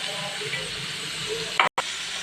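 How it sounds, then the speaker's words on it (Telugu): Onions frying in a pan give a steady, dense sizzle and hiss that runs throughout, with a brief louder clatter and a sharp cut-out near the end; no one talks. "ఆనియన్స్ ఫ్రై చేసుకోవాలి."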